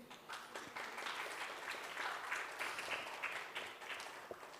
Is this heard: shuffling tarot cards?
no